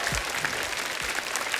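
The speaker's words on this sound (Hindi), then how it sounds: "जोरदार तालियां हो जाए" A studio audience on a comedy talk show claps loudly to welcome the actors and the film director, a steady, dense burst of applause with a few low thumps underneath.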